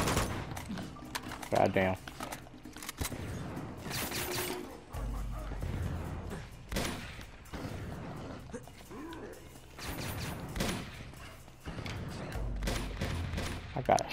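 Enemies in Uncharted 2: Among Thieves pour fire in repeated bursts of close, sharp gunshots and impacts, separated by brief lulls, while someone talks over the shooting.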